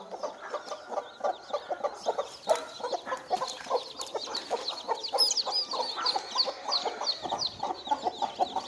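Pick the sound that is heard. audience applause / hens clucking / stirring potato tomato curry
hens clucking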